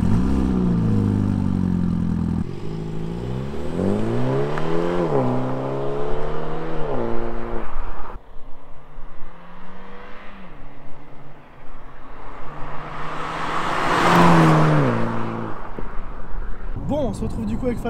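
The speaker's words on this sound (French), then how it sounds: "ce que je te propose maintenant, c'est qu'on démarre son 4 cylindres et qu'on parte rouler." A 2018 Mini Cooper S Cabriolet four-cylinder engine starts and revs through rising, falling gear changes, then settles into a steady drive with passing road and wind noise; brief voices near the end.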